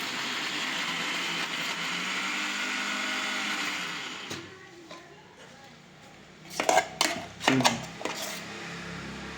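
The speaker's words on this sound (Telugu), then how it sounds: "ఒక్కసారి మిక్సీ తిప్పి" Kitchen mixer grinder whirring as it grinds onions, dried red chillies, salt and washed tamarind, a steady loud whine for about four seconds that cuts off, followed by clattering jar and lid knocks.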